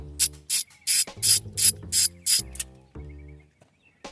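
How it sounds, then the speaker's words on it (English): A ratchet fitted with an 8mm deep socket turns an EGR bolt on a Detroit 60 Series diesel engine, giving a close, rhythmic run of sharp pawl clicks that slows and trails off near the end, without speech. "We're gonna be needing an 8mm to remove this right here, and I'm just running a deep socket."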